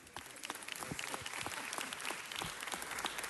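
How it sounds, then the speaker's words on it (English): A modest group at a city council meeting claps for Miguel, a quiet round of applause with distinct individual claps pattering unevenly for several seconds, no one speaking. "Everybody just give Miguel a round of applause."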